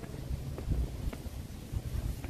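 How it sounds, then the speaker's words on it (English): Strong wind gusting on a scenic walk down Victoria Peak in Hong Kong, heard as a continuous low rumble of buffeting against the microphone, swelling and easing in gusts, with no talk. "Holy, it is windy. Yeah, it's so windy."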